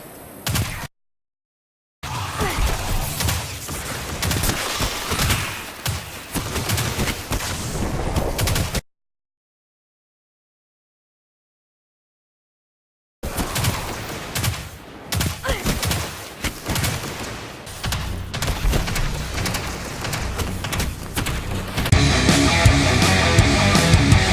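Riskrunner submachine gun from the video game Destiny 2 firing in rapid, dense bursts, loud and continuous, interrupted by stretches of complete silence and ending in a harsher crackling volley.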